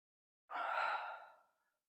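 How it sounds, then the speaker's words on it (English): A deep, breathy exhale from a yoga class, a single soft sigh-like breath that starts abruptly and fades gradually, close and quiet against silence. "Take a deep breath."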